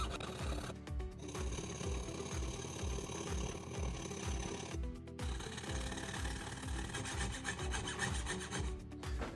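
A very thin jigsaw blade cuts an entry hole in a hand-carved silver coin, with rapid, steady rasping strokes that continue closely and quietly, broken by a brief pause partway through.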